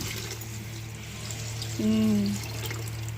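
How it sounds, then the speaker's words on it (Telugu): Water poured into a cooking pot on a stove for a meal maker pulao, a short gurgling pour rising briefly over a constant low hum of the burner. "ఎసురు వాటర్ అయితే పోసేసుకున్నామండి"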